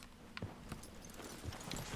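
Horse hooves clopping at a steady walking pace in the video game Red Dead Redemption 2, soft and slightly distant, over a faint ambient background.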